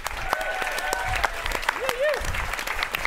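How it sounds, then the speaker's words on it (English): An audience claps as a company CEO walks on stage at a business event, continuous applause overlaid by whoops and whistles from the crowd, with a voice briefly audible. "Let's clap him in, team."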